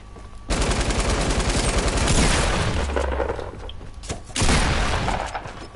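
Rapid automatic gunfire from a Fortnite match, loud dense bursts of shots with crackling impacts, a short pause partway through before another burst.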